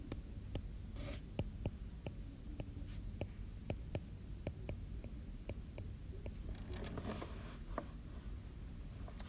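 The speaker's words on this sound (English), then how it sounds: "Sometimes I try to write fast, and as a result, I have to go back and erase" A pen or pencil writing geometry notes by hand, producing a steady run of short, close scratching strokes and taps over a low room hum, with no talking.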